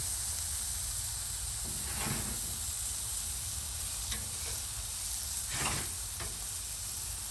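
Ribeye steaks sizzling on a Big Green Egg ceramic grill, a steady close hiss with brief louder crackles and flare-ups as the meat settles on the grate.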